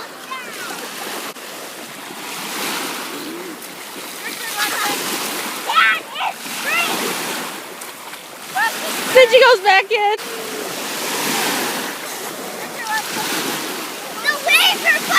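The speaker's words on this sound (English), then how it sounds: "The waves are pushing me back!" Ocean waves surging and splashing on a beach on a hot day, a continuous rushing wash with bursts of spray, under frequent talk and children's voices.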